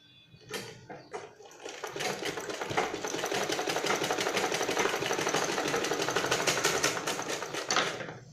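Sewing machine stitching a dori across fabric, a few clicks at the start and then a steady, rapid mechanical whir of needle strokes lasting several seconds before it stops, fairly close, with no talk.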